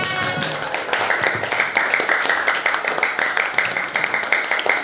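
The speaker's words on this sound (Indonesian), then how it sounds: "Boleh tepuk tangan dulu untuk kalian semuanya." Students clapping in a seventh-grade Indonesian language classroom, a brisk rhythmic patter of many hands close by that keeps a steady pulse for several seconds.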